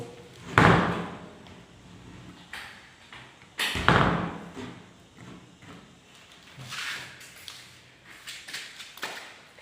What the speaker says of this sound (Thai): บานประตูบานนี้นะครับ เบียดบริเวณชุดลูกบิดประตู